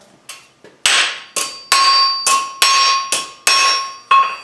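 A blacksmith's flatter is struck repeatedly on hot steel resting on an anvil, giving about eight loud, close, ringing metallic blows in an uneven rhythm, each with a bright bell-like decay, and no talking.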